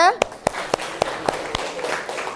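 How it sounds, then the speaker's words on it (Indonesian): Classmates in a university teacher-training session applaud group 2 with a handful of sharp, evenly spaced claps close by, while a voice speaks at the start. "tepuk tangan untuk kelompok 2"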